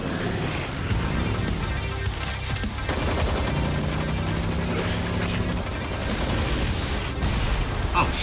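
Dense animated gunfire rattles continuously through a Ghost Rider versus Spawn fight, layered with mechanical clanks and booming impacts in a busy, loud soundtrack without clear speech.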